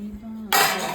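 A metal aarti plate, about thirty years old, clatters sharply as it is handled, with a burst of bright metallic clinking that follows a quiet moment and runs on loudly to the end.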